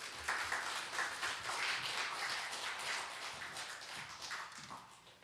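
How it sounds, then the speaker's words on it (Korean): A church congregation at a Sunday worship service in Busan claps together to welcome the pastor, a sustained mass of applause heard from within the hall with no talking. "우리 박수로 환영하도록 하겠습니다"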